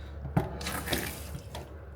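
Water runs from a kitchen tap in a newly fitted villa kitchen, a steady rushing flow with a brief splash near the start, alone and fairly quiet.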